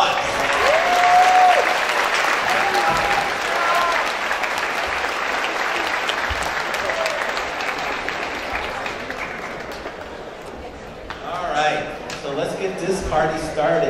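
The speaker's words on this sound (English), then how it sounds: "So give yourselves a round of applause." Students and families applaud at a school moving-up assembly, a loud sustained burst of clapping with scattered whistles and cheers that gradually tapers, then voices and fresh cheering rise near the end.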